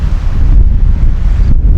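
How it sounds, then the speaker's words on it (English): Strong wind blows across a lake, a loud continuous roar buffeting the microphone with low rumble throughout and no voices. "Very windy, as you can tell."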